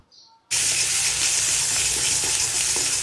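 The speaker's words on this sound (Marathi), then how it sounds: "छान असं तेलामध्ये मसाले भाजून घ्यायचे" Spices and ginger-garlic paste hitting hot oil for a village-style crab curry, bursting into a loud, continuous sizzle after a brief quiet start and holding steady close up.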